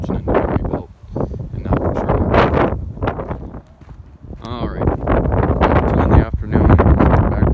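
Heavy wind buffets the microphone in loud, gusty rumbles, mixed with a voice speaking underneath.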